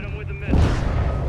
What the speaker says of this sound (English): Hit him with the missile.